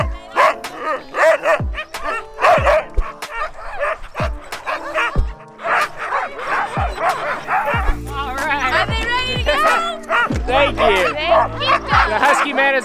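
A team of excited sled huskies barks, yips and whines continuously at close range, the yelping growing more frantic toward the end, with people talking among the dogs.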